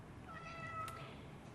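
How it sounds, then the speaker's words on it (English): A torbie cat, tortoiseshell-tabby mix, gives a single drawn-out meow, close and fairly faint over a steady hum of room noise. "She is a beautiful Torby cat, and what that means is she is part tortoiseshell and part tabby."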